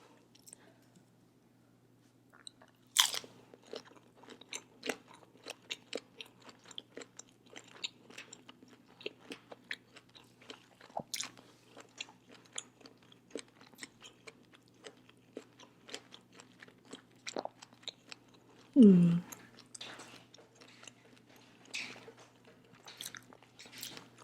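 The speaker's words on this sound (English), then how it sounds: "first bite of the shrimp" Someone bites into and chews Cajun boiled shrimp from a seafood boil, close up and quiet. Soft wet crunches and squishy chewing come in an irregular rhythm, with one louder bite partway through and no talking.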